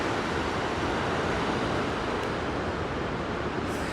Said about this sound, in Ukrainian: сьогодні ви бачите, що коїть шторм